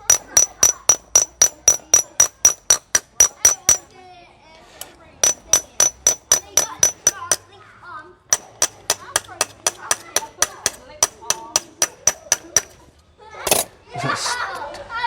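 Hammer taps and whacks on metal being shaped flat, fired in fast, even runs of sharp close strikes with brief pauses between bursts, ending with a few heavier clanks.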